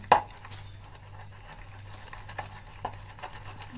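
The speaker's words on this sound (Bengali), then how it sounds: "জল দিয়ে মেখে নেবো। ভালো করে ফেটিয়ে নেবো।" A spoon or whisk beating jackfruit pakora batter made with water, salt, chilli powder and turmeric in a bowl, giving soft irregular taps and scrapes with a few sharper clinks against the bowl.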